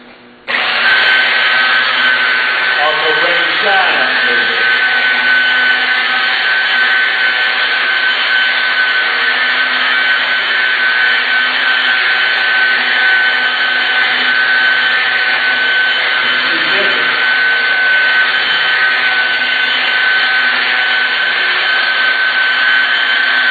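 A polishing buffer runs steadily on car paint, applying cleaner to lift scratches, dullness and swirl marks during auto detailing; a loud, continuous machine whine holds throughout with no talk.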